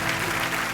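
Studio audience applauding on a Hindi comedy talk show set, a dense continuous wash of clapping at steady loudness with no voices over it.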